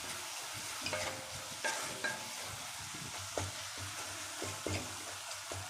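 Gooseberry rice being stirred in a pan with turmeric powder, a steady scraping and stirring with soft sizzling throughout, several sharper knocks of the spoon against the pan, close and moderately loud with no talking.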